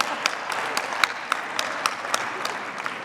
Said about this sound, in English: Let's clap it up for that.